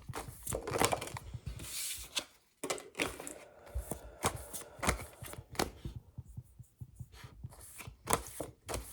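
Tarot cards shuffled and drawn by hand, a dense run of soft riffling, flicking and sliding card sounds close by, with brief pauses between bursts and no talking.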